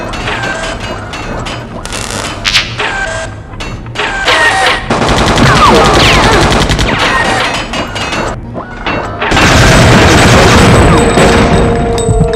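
Loud assault rifle gunfire in the horror game Fear Effect comes in repeated rapid bursts with heavy booming impacts and crashes, separated by short pauses, all close and dominant.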